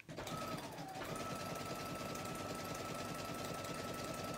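A sewing machine stitches appliqué in one continuous, even mechanical whir that starts almost at once and holds steady, close and moderately quiet, with no talk over it.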